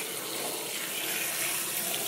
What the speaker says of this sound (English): So I usually like to rinse in cool water.